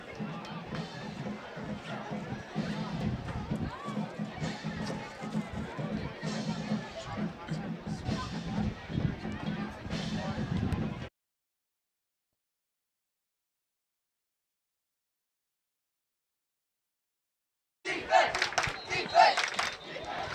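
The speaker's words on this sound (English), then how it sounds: "Crowd's going crazy." Loud stadium crowd at a high school football game roars and cheers continuously for about eleven seconds, broken by a sudden silent gap, then the dense crowd noise bursts back in near the end.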